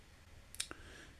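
Soft mouse clicks, two or three quick faint taps close together, alone in a quiet room while skipping through video scenes.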